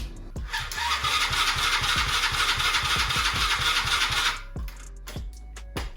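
A car engine is started with the key: a loud starter motor cranks in quick rhythmic pulses for several seconds, then cuts off. A few sharp knocks and clicks follow.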